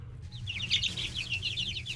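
Hens clucking in a pen inside an agricultural center, a busy overlapping chorus of short clucks and chirpy calls at close range over a low steady hum, no talk.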